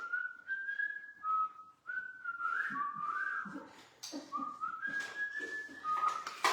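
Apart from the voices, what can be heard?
wolf whistle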